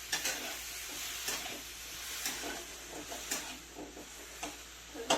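Raw mango pieces sautéing in a pan as sugar is added, giving a soft steady sizzle with faint stirring scrapes and light utensil clinks close by, no voices.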